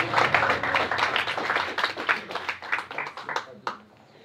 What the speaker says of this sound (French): On peut tous applaudir Marjorie